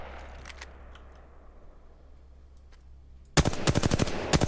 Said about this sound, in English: Wow, the sound is nice from that sniper.